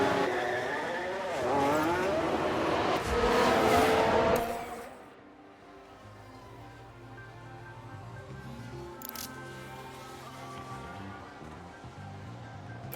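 Racing cars in the F1 Manager 22 game roar past with loud, rising engine revs in the opening seconds, then fade to a quieter, distant engine drone with a steady hum.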